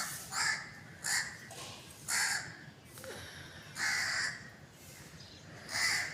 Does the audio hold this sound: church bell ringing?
no